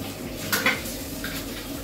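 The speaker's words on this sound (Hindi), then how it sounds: "यहाँ पे बर्तन धुल रहे हैं, सारे धुले धुलाए बर्तन फिर से धोए जा रहे" Dishes, pots and pans are being washed at home, heard as a few light clinks and clatters of metal utensils against a steady background of running water, fairly close and without talk.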